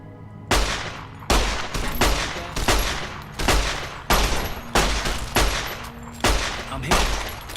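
Rapid bursts of gunfire in modded Fallout New Vegas, about nine loud, close shots in an irregular rhythm with short gaps between them and no talking.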